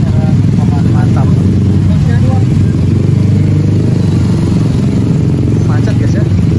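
Motorcycles and cars sit in a traffic jam at Pangalengan market, close engine rumble and clatter forming a loud, continuous wash of idling and revving, with a person talking over it.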